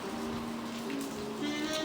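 Steady rain falls outside a coffee shop in Danang, Vietnam, as a constant soft hiss heard from indoors, with faint background murmur and a thin tonal hum.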